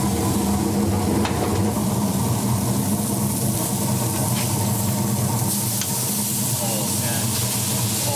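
Burgers sizzle on a hot grill in a loud, continuous, crackling hiss that fills the whole stretch, with faint scattered pops and no voices.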